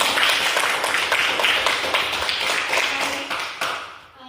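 Classroom students clapping their hands together in a dense, sustained round that tapers off near the end, with no talking over it.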